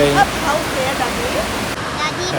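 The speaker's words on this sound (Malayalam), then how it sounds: "ഒരു ചെറിയൊരു ചെക്ക് ഡാം പോലത്തെ ഒരു സംഭവം. അവിടുന്ന് വെള്ളം ഒഴുകി പോകുന്നത്." Water spills over a small check dam on a stream in Idukki, a loud, steady rushing wash heard close, with faint voices underneath.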